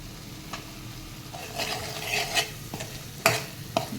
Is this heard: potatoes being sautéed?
yes